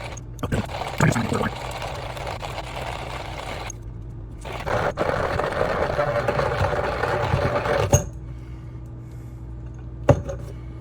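Keurig coffee grinder grinding coffee beans, a steady close whirring grind that pauses briefly partway and then resumes, ending with a couple of sharp knocks.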